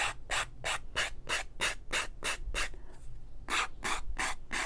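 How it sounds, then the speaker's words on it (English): A quilted ladybug frame piece is sanded in steady back-and-forth strokes, about a dozen rhythmic rasping passes with one brief pause near the end, close and clear with no voices. "You don't have to sand."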